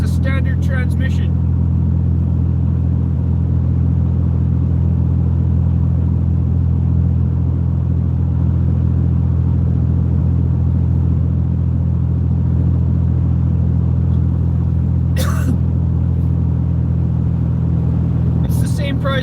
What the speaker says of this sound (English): It's a 2004 Honda Accord. It's got a 4-cylinder engine